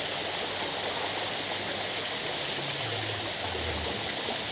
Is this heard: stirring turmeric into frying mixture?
no